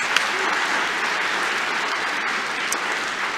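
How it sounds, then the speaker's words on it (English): A graduation crowd applauds the graduates with sustained, even clapping from many hands filling an auditorium. "let's give the graduates another round of applause"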